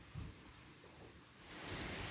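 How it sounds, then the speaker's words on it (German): Rain from Hurricane Beryl in Jamaica falls steadily as a faint, even hiss, swelling slightly toward the end of the short stretch. "Wir haben jetzt Regen permanent. Noch nicht so strömend."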